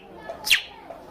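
A person mimics a bird call with a sharp, high whistled chirp in the middle, followed by a second brief chirp at the very end, close and fairly loud against a quiet background.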